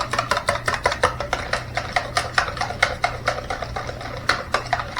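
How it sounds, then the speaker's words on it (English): A beater clatters in fast, steady rhythm against a bowl while mixing zucchini bread batter, making loud close ticks over a low hum that runs for the whole stretch. "we're going to take our beater and we're going to mix this well"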